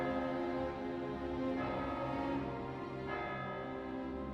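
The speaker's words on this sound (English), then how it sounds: "We're on to, like, the 5th or 6th bell now." Church bell tolling in the medieval video game Kingdom Come: Deliverance II, a sustained resonant ring with a fresh strike about halfway through, humming on at moderate volume.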